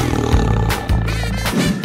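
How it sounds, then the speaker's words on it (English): A tiger in a children's animal animation lets out loud, close, growling roars in several rough bursts, with no talking over it. "Tiger."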